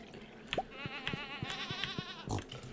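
Sheep in the Stardew Valley video game bleat in a wavering, quavering call over a backdrop of regular soft dripping or tapping sounds, moderately loud and close.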